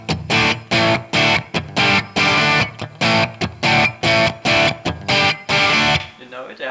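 Distorted electric guitar plays a riff with tight palm mutes: loud, chunky chord stabs in a steady stop-start rhythm, each burst clipped short, then ringing out briefly before silence.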